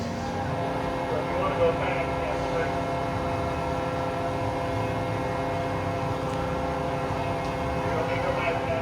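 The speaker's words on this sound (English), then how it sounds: "the train is quickly approaching the station" A Flying Cobras roller coaster train at Carowinds in Charlotte, North Carolina, rolls toward the station with a steady, loud, continuous rumble that stays even throughout.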